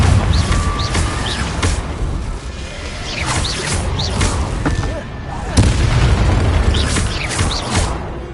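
Repeated Confringo spell blasts in Hogwarts Legacy, loud booming explosions with whooshing bursts every second or so, one heavier impact midway, under a continuous rumble of combat.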